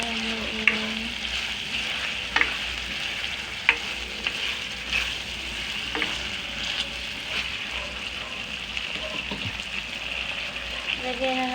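Chicken afritada is stirred as it fries in a pan: a continuous, close sizzle with repeated spatula clicks and scrapes spread across the stretch, with no clear talking.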